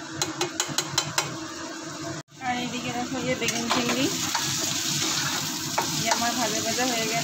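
Brinjal and shrimp frying in a pan, a steady close sizzle with a few sharp taps at the start, a brief drop to silence, then continuous crackling frying.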